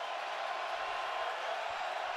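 A loud stadium crowd roars at a Kansas Jayhawks football game, a steady, broad wash of cheering noise with no distinct breaks.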